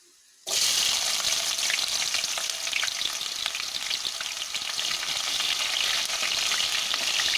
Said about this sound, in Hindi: हम तड़का के लिए ऑनियन पैन में डालेंगे